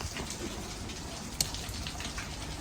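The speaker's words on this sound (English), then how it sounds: "it's raining, man. Look at the water." Rain falls steadily in Vancouver, a faint even patter and hiss with a single sharp drip or tap standing out midway, no one speaking.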